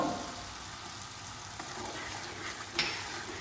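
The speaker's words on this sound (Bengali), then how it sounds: "টমেটোর কাঁচা গন্ধটা না যাওয়া পর্যন্ত আমি লো ফ্লেমে এটাকে কুক করে নেব" Tomato paste with Kashmiri chilli powder and salt cooking in a pan over low flame, a soft steady sizzle throughout with one brief stir near the end, close and unaccompanied by voices.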